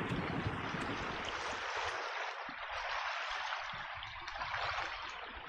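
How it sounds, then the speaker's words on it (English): Simulated ocean waves roll onto a beach in an Unreal Engine 5 fluid simulation, heard as a steady, dense wash of surf noise with no talk. "experience the waves as they're rolling in"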